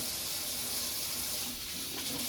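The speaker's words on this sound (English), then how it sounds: "Let me wash my hands." Hands being washed under a running tap, a loud, steady rush of water close by that continues without break for the whole moment, with no talking.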